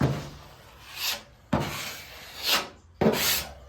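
Hand sanding of body filler on a car, with rough, rasping strokes, three long back-and-forth passes in a steady rhythm, close and fairly loud, no voices.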